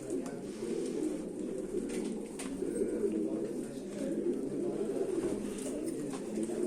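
Several pigeons coo in soft, overlapping murmurs inside a loft, steady and close, with a few faint higher chirps and clicks scattered throughout.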